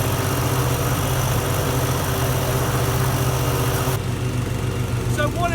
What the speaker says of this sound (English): it's time to now strike up the TimeMaster and give it a bit of a thrashing